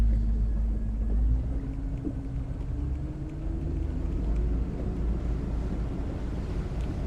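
The Mercruiser 4.3 engine of a 2013 Bayliner 195 runs with a steady low rumble out on the water, a slowly rising tone over wind buffeting the microphone, with no voices.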